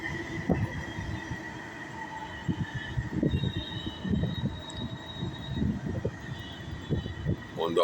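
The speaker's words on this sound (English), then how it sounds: "This is the metro going from Noida to the Dwarka Blue Line metro." A Delhi Metro Blue Line train runs from Noida toward Dwarka near the flooded Yamuna, a low rumbling roll with rhythmic thumps and a thin steady whine above, heard from nearby.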